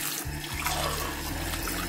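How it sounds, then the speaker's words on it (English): Tap water runs steadily into a container being rinsed out, a continuous close splashing stream heard on its own with no voices. "I'm going to rinse it out."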